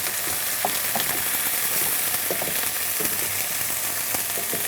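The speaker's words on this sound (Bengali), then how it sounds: "মশলাটা একটু কষিয়ে নিচ্ছি যেন কাঁচা গন্ধটা চলে যায়।" A spice paste of onion, garlic and ginger frying in a pan, giving a steady close sizzle with small pops and crackles throughout, alone without voices.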